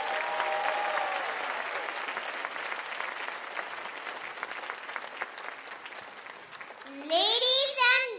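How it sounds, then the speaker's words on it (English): Applause rolls steadily through a school event audience at CP Goenka International School, sustained clapping under a few scattered voices, ending as a voice rises loudly near the close. "Can we have a round of applause, please?"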